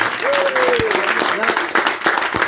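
Brief burst of audience clapping at a Martinique radio event, dense and close, with a voice calling out over it.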